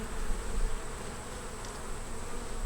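Honeybees in a four-frame nucleus hive with a yellow-marked queen buzz in a steady, dense drone up close, with a slight swell near the start and no talk.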